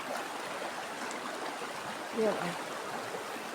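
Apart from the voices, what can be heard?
deep flowing stream water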